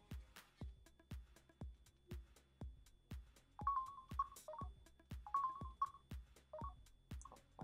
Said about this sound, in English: I keep getting text messages